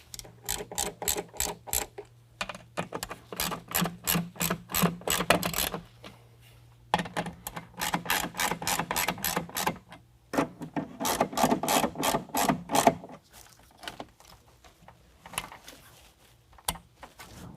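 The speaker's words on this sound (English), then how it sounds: "Then we're going to tighten down our hose clamps with the 8mm" Hose clamps being tightened with an 8mm tool give off bursts of rapid ratcheting clicks, close and crisp, repeated in several runs separated by short pauses.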